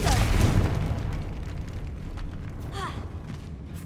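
Confringo blasting spell going off in Hogwarts Legacy: a heavy, booming explosion at the start that decays into a rumbling tail, with faint magical whooshes afterward.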